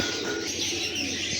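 Pigeons coo in a flock nearby, a soft layered murmur of calls over a steady background, with no voices heard.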